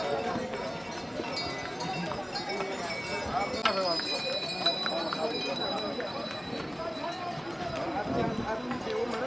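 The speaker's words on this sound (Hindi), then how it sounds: "अभी हम घोड़ा वाला मार्केट को पार कर रहे हैं, जहाँ पे घोड़ा पे बैठ करके अपना सवारी शुरू करते हैं।" Horses' hooves clip-clop at the busy horse market on the snowy Kedarnath trek route, a steady patter of hoofbeats amid crowd chatter, jingling harness bells and general bustle.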